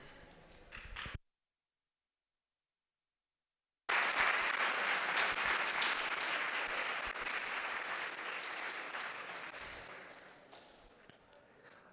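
Audience applause after a talk at an Animal Rebellion event at Vegan Camp Out: a brief burst, a silent gap, then sustained dense clapping that gradually thins and fades.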